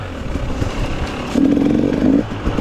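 A 2021 GasGas 300 EC two-stroke trail bike revs hard on a dusty trail, its buzzing engine note rising into a sustained high-pitched blare before dropping back to a rough, throbbing idle.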